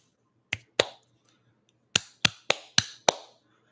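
Seven sharp hand claps, close and fairly loud: two quick ones near the start, a pause, then five evenly spaced claps, with no talking.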